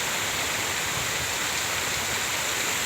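Water flowing steadily at Krus na Tubig, a dense, loud, continuous rushing wash like a waterfall or stream, unbroken with no voices.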